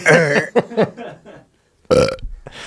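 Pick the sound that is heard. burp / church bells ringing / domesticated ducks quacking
burp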